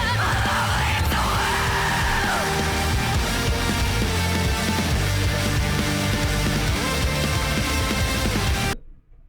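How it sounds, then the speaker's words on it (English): A singer yells through the intense section of a song, a loud strained vocal over dense, driving band music that cuts off abruptly at the end. "All right, so the yelling part here."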